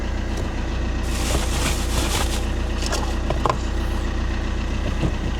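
A small Fiat Panda 1.3 diesel engine idles steadily and close by, a constant low rumble with a faint rattle running through the whole stretch and no voices.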